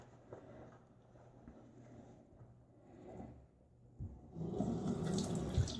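Running water from a tap rinses shaving soap off fingers, a faint steady trickle that swells louder near the end.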